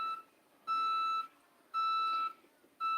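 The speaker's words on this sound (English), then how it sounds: "We got some beep beep beeping outside" An electronic beeper outside sounds a steady, repeating pattern of long, even tones separated by short silences, heard from some distance with no talk.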